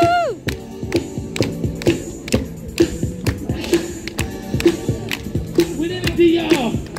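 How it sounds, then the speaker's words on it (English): Street crowd in San Francisco clapping along, regular rhythmic handclaps repeating steadily over several seconds with music-like tones and a lively outdoor bustle. "Everybody clap like this."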